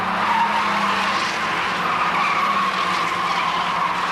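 A front-wheel-drive showroom stock race car in a 1980 national championship race skids as left-foot braking locks its rear wheels, giving a continuous loud tire squeal over engine and track noise.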